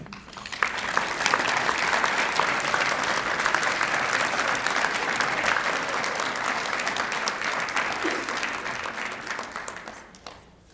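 Sustained, steady applause from an audience at a distinguished alumni hall of fame ceremony honoring a high school graduate, filling the room evenly for about ten seconds before tapering off.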